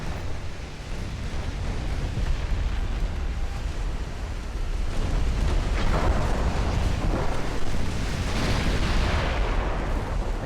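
Naval artillery gunfire in Ultimate Admiral: Dreadnoughts, heavy booming rumbles blending into a continuous roar with sea and wind noise, swelling louder partway through, with no talk.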